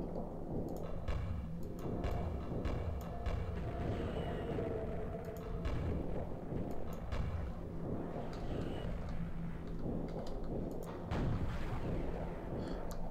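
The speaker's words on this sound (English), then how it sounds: "Direct hit with a rocket launcher." Rocket launcher blasts and explosions in the game Quake, loud repeated booming impacts with rumbling action noise throughout, and a voice talking over them at times.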